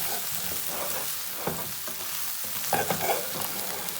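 Corn being mixed together in a pan while cooking salt and pepper prawns, giving a low sizzle with scraping stir strokes and light clatter, close and without speech.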